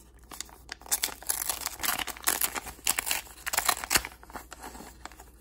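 Package of stickers being opened, a dense run of crinkling and tearing wrapper plastic, close and moderately loud, with no speech.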